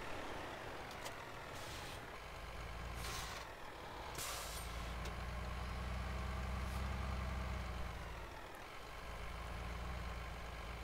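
In a video game, a box truck's engine idles as a steady low rumble, with a few sharp hissing air brake bursts near the start, then the engine swells and eases off as it moves, with no talking.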